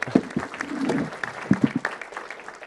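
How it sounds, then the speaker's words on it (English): Audience applause for a presenter at a scientific genome assembly talk, scattered claps from a modest crowd that swell and fade briefly, moderately close. "Can we have a round of applause for Sean, please?"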